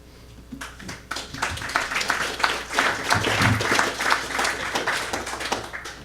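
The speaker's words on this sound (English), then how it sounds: "You got applause, Rick" Applause breaks out at a public hearing on the Doheny desalination project after a presentation ends, starting from a few scattered claps and swelling into a fuller, fairly close round of clapping from the room.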